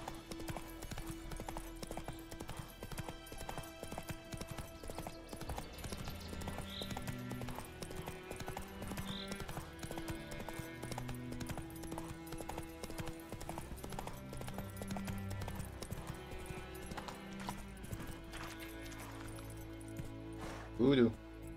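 Horse hooves clip-clop quickly on the ground in The Witcher 3 while the rider gallops. The hoofbeats go on steadily under game music and under someone speaking French.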